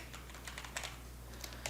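Computer keyboard typing, the word database being entered during a MySQL connection setup, heard as a quick run of soft, close key clicks in an uneven rhythm over a faint hum.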